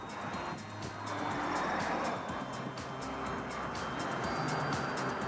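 Car passing by on a road outside an Indianapolis motorcycle industry show, a steady moderate whoosh of traffic and road noise with no talk over it.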